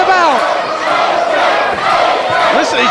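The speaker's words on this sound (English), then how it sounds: "We got an AJ chant and we got a Joe chant competing with each other" A wrestling crowd at an AJ Styles vs Samoa Joe match chants loudly, with two rival chants for AJ and Joe overlapping in a steady, roaring arena din with scattered shouts.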